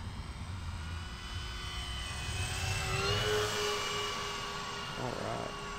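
A Dynam P-61 Black Widow 1500mm 4S electric RC warbird flies a downwind hot pass, its steady motor whine swelling as it passes and then fading, heard at a distance over outdoor background.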